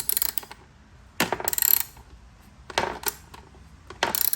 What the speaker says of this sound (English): let me go ahead and ratchet these off